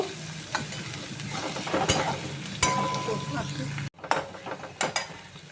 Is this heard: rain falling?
no